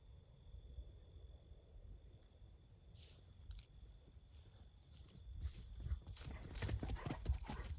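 A horse, halter just removed, walks away on the ground with soft, irregular hoof clops that grow louder toward the end, set against faint outdoor ambience with insects.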